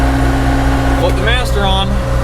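A farm tractor engine runs at a steady mid-pitched drone with a pump engaged, heard up close while a person talks over it.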